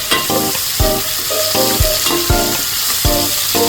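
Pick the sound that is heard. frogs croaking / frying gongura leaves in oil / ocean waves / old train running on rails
frying gongura leaves in oil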